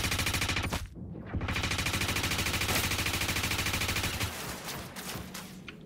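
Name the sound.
gunfire in Star Citizen video game ship boarding fight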